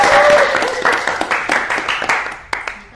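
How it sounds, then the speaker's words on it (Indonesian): A group claps together in applause, a dense patter of hands that starts loud and gradually thins and fades over a few seconds, with a few sharper individual claps near the end. "Oke, tepuk tangan buat kita semua."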